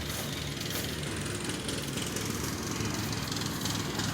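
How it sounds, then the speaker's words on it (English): A lawn mower engine runs steadily somewhere outdoors, a continuous mid-level drone with a busy rattling texture and no pauses. "There he is, that mower."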